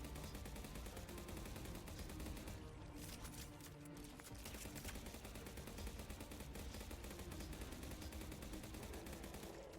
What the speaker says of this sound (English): Let's just shoot him with the minigun.